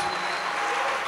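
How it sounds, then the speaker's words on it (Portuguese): A church congregation applauding during a Portuguese-language worship service, a brief continuous wash of clapping that stays even and fairly loud, with no voices heard over it. "Pode aplaudir Jesus"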